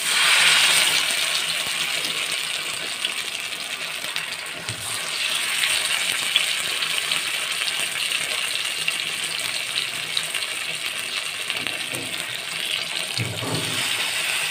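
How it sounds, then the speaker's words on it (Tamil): Marinated lake fish frying in a pan of hot oil, a steady close crackling sizzle that holds throughout with a few small clinks and no talk. "இப்போ பொரிச்சு எடுத்துக்கலாம்."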